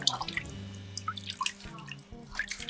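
Water dripping and splashing from a tie-dye shirt being squeezed out after a soda ash soak, with irregular close drips and small trickles.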